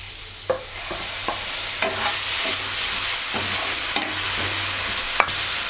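Ground coconut spice paste cooks in a pan for a Telugu jackfruit seed curry, a steady close sizzle and frying hiss broken by several sharp scrapes and clicks of stirring, with no talk.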